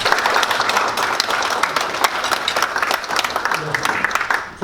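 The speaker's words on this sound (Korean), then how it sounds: "그럼 우리 김지영 교수님을 큰 박수로 맞이해 주시기 바랍니다." Audience at a breakfast forum on technology management applauds to welcome a professor to the stage, dense sustained clapping throughout at steady loudness, fading at the very end.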